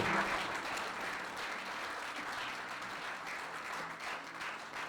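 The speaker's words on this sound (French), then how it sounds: "Clap for the Lord" Congregation applauding at a church service, a steady, full roar of many hands clapping throughout, moderately loud and even from start to finish.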